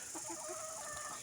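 Desi chickens on a small home poultry farm cluck softly and steadily in a short, faint stretch, with no voices.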